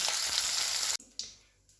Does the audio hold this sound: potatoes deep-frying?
yes